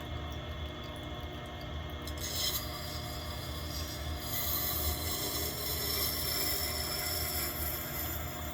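Steady gritty rasp of an ESEE knife edge held against a 220 grit stone turning on a Tormek T8 wet sharpener, continuous and close with a low motor hum underneath, the grinding swelling slightly louder midway.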